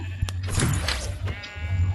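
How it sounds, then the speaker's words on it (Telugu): A single baby goat bleat in Minecraft, a short nasal cry heard clearly over a low steady hum, with a couple of sharp clicks around it. "ఒక మేకపిల్ల"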